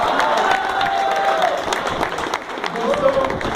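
An audience at a Maharashtra testimony event applauding, a dense continuous clatter of clapping with crowd noise and some cheering, steady through the whole short stretch.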